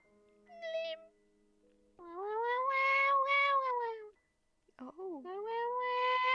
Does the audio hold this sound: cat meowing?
yes